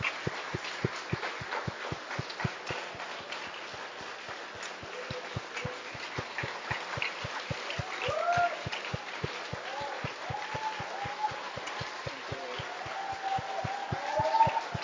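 A church congregation claps hard during a worship service in a fast, steady rhythm of sharp claps that builds slightly louder toward the end, with a voice speaking over the clapping.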